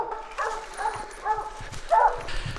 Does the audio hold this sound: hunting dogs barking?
yes